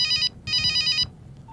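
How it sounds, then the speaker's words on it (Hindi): A telephone rings indoors in two bright electronic bursts with a short gap between them, then falls silent. "फोन बज रहा है।"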